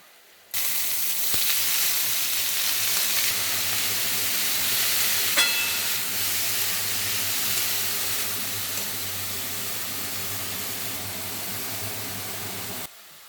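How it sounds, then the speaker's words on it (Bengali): Spinach greens tossed into fried eggplant in a hot pan give a steady, even sizzle and hiss that holds for several seconds, with one brief clack partway through and no voices. "বেগুনগুলো ভাজা ভাজা হয়ে গেছে, এখন বেগুনের মধ্যেই আমি শাকগুলোকে দিয়ে দেব।"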